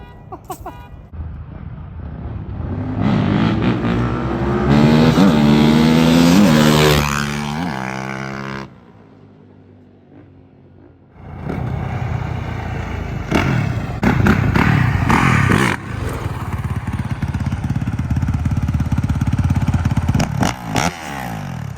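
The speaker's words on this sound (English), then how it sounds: "It's loud for a stock exhaust." A loud quad bike, converted from a Honda CRF450R dirt bike engine with stock exhaust, revs hard and roars for several seconds, drops to a low idle, then revs up again, rough and throaty close by.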